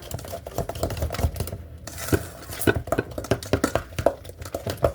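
Nutella chocolate chip cookie dough being mixed in a bowl, a quick run of irregular tapping and scraping clicks from the utensil against the bowl, close and without talk.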